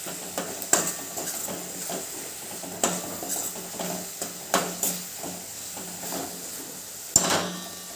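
Chilli powder and coriander-cumin powder being stirred into a sizzling pan for a green pigeon pea (lili tuvar) thotha gravy, with faint steady sizzle and intermittent scraping, clinking spoon strokes against the pan.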